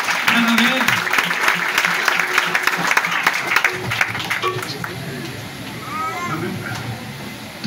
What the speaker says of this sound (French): nous battons d'abord un coup d'applaudissement chrétien